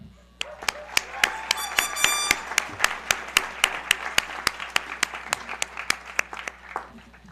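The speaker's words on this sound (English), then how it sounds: "class of 2022, clap for yourselves because today is your day" A graduating class of 2022 at a school graduation ceremony claps for itself, loud sharp claps close by over a dense crowd applause wash, with a brief tonal whistle-like sound early on.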